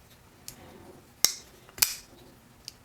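A Civivi Scintilla pocket knife flips open in sharp metallic clicks, two strong snaps near the middle plus fainter ticks before and after, close and otherwise quiet.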